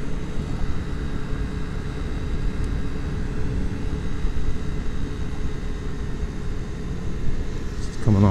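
Steady droning engine of a Piaggio Vespa 50 scooter while riding across a bridge, a continuous buzzing rumble mixed with wind noise, easing at the very end as the throttle comes off.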